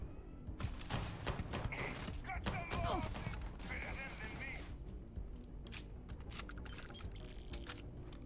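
Scattered gunfire in Starfield during an indoor firefight, with repeated sharp shots and short bursts at moderate distance, mixed with game clatter while a voice talks over it.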